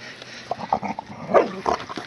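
Several dogs near a goat farm let out short, close barks and yips mixed with thin whimpers, coming in quick uneven bursts against a quiet background.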